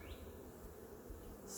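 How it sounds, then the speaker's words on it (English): A steady swarm-like hum of honey bees fills the air at an open beehive, with single bees droning close by now and then over the continuous buzz. "If you go slow, you'll not kill too many bees, and they'll usually get out of the way."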